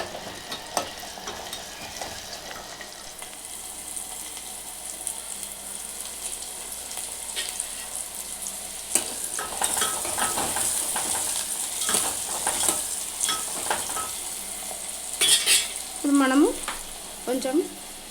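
Potatoes for an aloo masala curry fry in a pan with curry leaves and mint, a steady close sizzle broken by louder scraping stirs toward the end.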